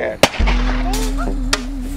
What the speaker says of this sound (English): I did hear that gunshot